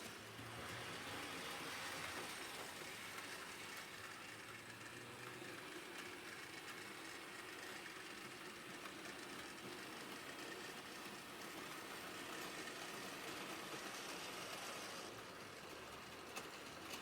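A small model railway train runs steadily with a continuous low rumble and whirring, constant in level throughout, with no talking.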